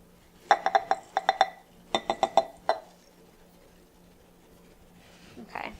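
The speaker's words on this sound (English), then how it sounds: "we'll whisk them just to combine it all so that it distributes evenly" Whisk clinking against a bowl while combining dry oatmeal maple peanut butter cookie ingredients, two quick runs of close, bright taps followed by near silence and a faint rustle at the end.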